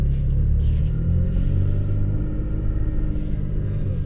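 A 2017 Toyota Tacoma pickup accelerates with traction control switched off, giving a steady, loud low engine rumble and drone close to the microphone that holds for the whole stretch with no clear gear change.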